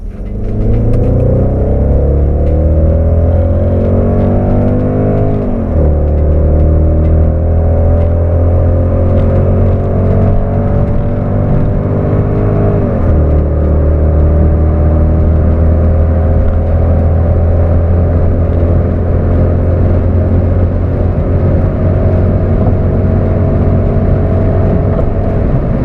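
A Mercedes-Benz E500 S211 V8 at wide open throttle on a dyno, engine droning loud and close as it climbs steadily through the gears, with pitch rising in long sweeps, brief drops at each shift, and a sustained high-rev roar.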